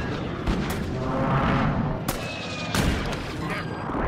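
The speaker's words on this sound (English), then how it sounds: "Who's shooting?" Rapid bursts of gunfire with booming reports in a multiplayer shooter game, steady and loud across the whole stretch, with voices chatting over it.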